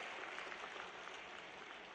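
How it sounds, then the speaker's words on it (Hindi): Dense, steady applause from an audience at a panchayat conference welcoming a guest, a broad continuous patter of clapping hands with no break. "तालियां एक बार जोरदार उनके स्वागत में आप लोग बजाकर उनका स्वागत करें"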